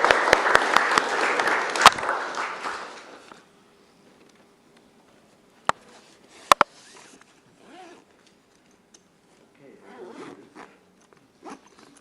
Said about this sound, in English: So give some warm applause to Robert.